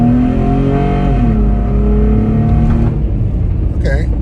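A car fitted with a Z1 Offroad Advanced Induction System pulls away hard from first gear, a loud, steady engine drone rising in pitch through the revs, then dropping as the throttle eases near the end.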